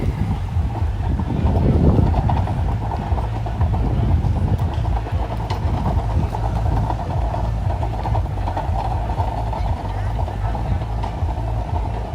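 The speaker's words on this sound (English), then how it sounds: "Hopefully the wind is not too bad." Wind blusters at a beach club near the main entrance in Bimini, Bahamas, a heavy low rumble buffeting the microphone and surging loudest early on.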